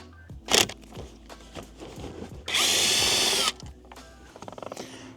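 A power driver fitted with a T30 bit spins out a steering wheel mounting bolt on a 2017 Acura NSX (NC1): one loud, steady whirring burst of about a second, framed by close clicks and tool-handling clatter, with no talking.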